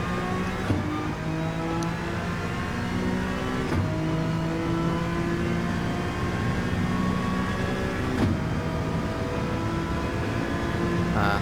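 Race car engine held at full throttle in Gran Turismo 7, a loud, sustained high-pitched roar with rising harmonics broken by a few quick gear shifts, no talk.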